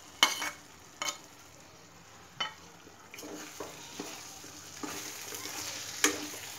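Onion, capsicum, green chillies and curry leaves fry in a pan for chilli paneer: a soft, low sizzle with sharp clacks of a utensil against the pan at intervals, growing slightly fuller as stirring continues.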